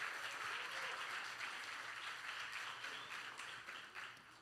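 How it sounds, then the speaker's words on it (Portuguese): A church congregation in Rio applauds together, a dense, steady wash of clapping that fills the room and slowly thins toward the end, with no voices over it. "Vamos aplaudir ao Senhor pelos irmãos que estão aqui pela primeira vez"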